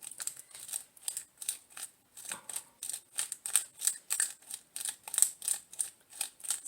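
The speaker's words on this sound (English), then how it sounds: "I have this cinnamon grinder, so I'm going to give it a little bit of that." A handheld cinnamon grinder turns steadily in a kitchen, making a soft, rhythmic scraping crunch of about three strokes per second. It sounds close but quiet, with no talk over it.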